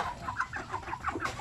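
Native chickens cluck in a soft, busy cluster of short calls, fairly close but quiet, with no talk over them.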